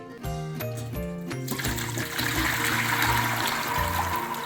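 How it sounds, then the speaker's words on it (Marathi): Soaking water from raw mangoes strained through a steel sieve in a home kitchen, a steady splashing trickle that swells and continues, with music playing underneath. "आता एका स्टीलच्या चाळणीमध्ये हे पाणी गाळून घेऊया."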